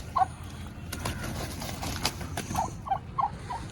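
Short bubbling gobbles from a male turkey break out at the start and again in a cluster near the end, over a steady outdoor background hum on a farm in the morning.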